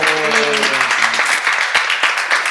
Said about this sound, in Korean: 그것을 원하는 사람만 박수 한번 쳐봐요.